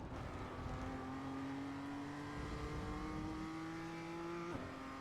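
A BMW M2 engine in iRacing climbs steadily in pitch under acceleration around Okayama International Circuit, a smooth rising drone that briefly dips near the end as a gear shifts, with no talk over it.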